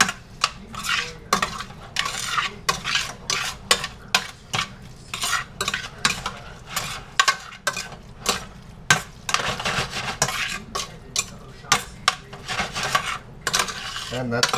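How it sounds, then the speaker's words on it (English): A spoon stirs and scrapes through sloppy joe mixture in a bowl, giving repeated clinking, scraping strokes at a steady rhythm, close and fairly loud, with no talking. "we're going to take a spoon and we're going to mix everything together"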